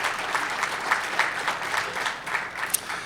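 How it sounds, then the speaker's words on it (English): Summit audience applauding steadily for about three seconds, a dense, fairly loud wash of many hands with a few sharper claps standing out, no talking over it. "So give yourselves a round of applause for being here for 4 years in a row"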